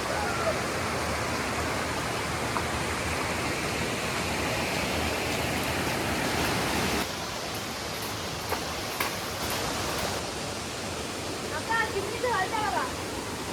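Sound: flowing stream water

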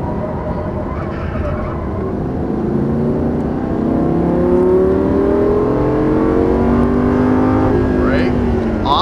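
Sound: Lamborghini Gallardo Superleggera engine in video game Forza

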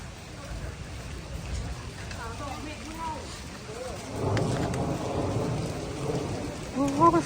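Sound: rain and thunder

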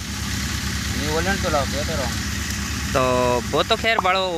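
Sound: tractor engine running

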